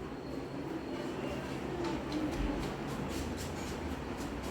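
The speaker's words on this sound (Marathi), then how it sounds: "मी आता मेट्रो स्टेशनवर आले" A metro train rumbles at a city metro station during the evening rush, a steady low drone with faint rhythmic rail clicks, fairly quiet and continuous.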